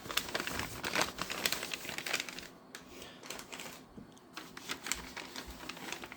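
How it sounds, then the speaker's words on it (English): Close, quiet crinkling and rustling of packaging as a red streamline caboose from a TYCO promotional toy train set is unwrapped, in irregular soft bursts. "I'm going to very carefully unwrap this"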